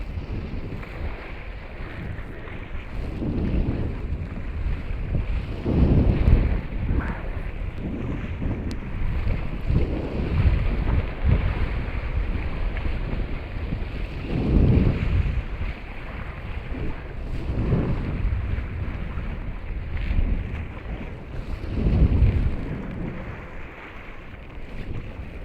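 Strong wind gusts buffet the microphone on Tonel Beach in Sagres during windsurfing, a steady roar rising into several loud surges with sea and surf noise beneath, no talking.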